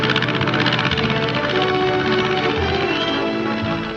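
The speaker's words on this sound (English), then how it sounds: "the sound of an airplane can be heard. A single motor ship flying low" A single-engine propeller airplane flies low over plateaus and canyons near a village, its droning engine steady and fairly loud throughout, fading slightly at the end.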